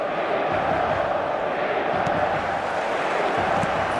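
Stadium crowd noise from the eFootball 2026 video game, a dense, steady roar of many voices with cheering swells, continuous and loud throughout with no clear break.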